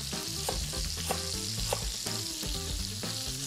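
Lemongrass and thinly sliced fresh ginger fry in a hot pan with a steady, loud sizzle, broken by a few soft utensil taps, no voices.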